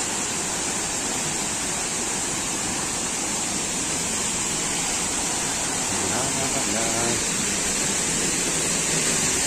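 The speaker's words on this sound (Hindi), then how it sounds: "ये रहा कैलाश गुफा का झरना।" Waterfall at Kailash cave in Chhattisgarh, a steady loud roar of falling water filling the scene without a break, close by and dominant throughout.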